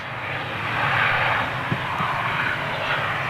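An aircraft lands at Manchester, its engine roar a broad, steady rush heard from a distance that swells slightly midway, with a faint thump as it touches down.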